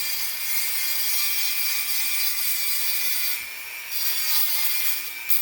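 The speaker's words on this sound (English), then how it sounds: "This is called a Dremel tool if you haven't used them before." A Dremel rotary tool grinds the inside edge of a stainless steel watch band, a continuous close, high-pitched abrasive whine with slight swells in intensity and no speech.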